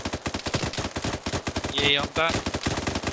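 Rapid bursts of automatic gunfire in ArmA 3 rattle close and loud, with someone briefly talking over the shooting.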